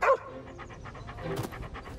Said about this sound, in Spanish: El perro ladra con entusiasmo en respuesta al discurso del comandante